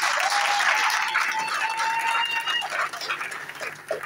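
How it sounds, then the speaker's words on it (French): Audience at a party meeting breaks into sustained applause that fills the hall, loud and dense throughout, with scattered cheers and voices mixed in. "Acclamons d'abord pour nos 2 sièges."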